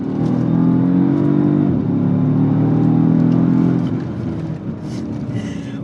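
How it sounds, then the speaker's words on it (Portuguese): A 2012 Mercedes S63 AMG armored sedan with a twin-turbo V8 revs loudly and steadily, dips briefly, climbs again, then settles back to a lower rumble near the end. "você meteu um motor V8 biturbo com 80 quilos de torque, com um ronco insano"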